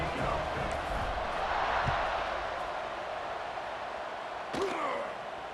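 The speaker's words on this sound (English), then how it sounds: "this crowd is feeling themselves after that last drive" A stadium crowd roars in a continuous broad wash of cheering during a kickoff in the College Football 26 video game, moderately loud, with a sharp thump near the end.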